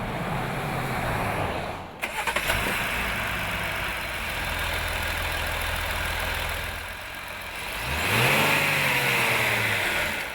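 A Jeep Gladiator's 3.6-liter Pentastar V6 idles with a steady rumble, a short blip near the start, then revs up strongly toward the end, heard up close without speech.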